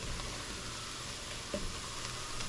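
Onions cooking in a pan after deglazing, giving a soft even sizzle with a light stirring clink partway through, close and steady without speech.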